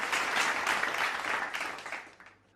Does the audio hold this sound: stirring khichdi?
no